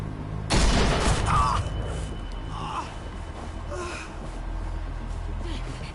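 A single loud gunshot bursts out in The Walking Dead: The Final Season, followed by gasps and strained breathing, then a quieter lingering ambience.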